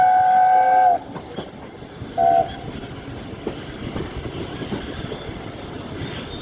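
Train drawn by steam locomotive 60163 Tornado pulling into Horsham station, two clear whistle blasts sounding before the carriages roll on with a low rumble and faint clattering of wheels on rail.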